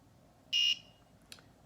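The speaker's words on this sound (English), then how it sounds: "Just does like a little buzzer just to kind of test it out" A small buzzer on a PCB trophy gives one short, shrill electronic beep, followed a moment later by a much fainter brief chirp against quiet room tone.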